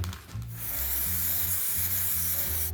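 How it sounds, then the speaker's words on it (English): A steady, close hiss of an aerosol spray can runs continuously for a few seconds, with a faint low hum underneath. "Apply the spray in a crosswise pattern, from top to bottom and from left to right."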